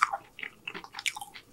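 Lumpia from L&L Hawaiian BBQ being bitten and chewed close up, a quick series of soft crunches and moist chewing clicks, fairly faint, with no talking.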